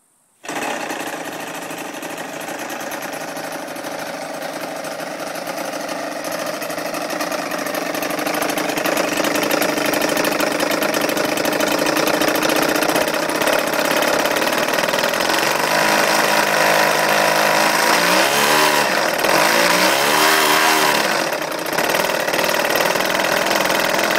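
A DLE 55 gasoline model-aircraft engine fitted with a gearbox runs steadily and loudly, its buzzing drone rising in pitch as it is revved toward full throttle and held there for most of the stretch.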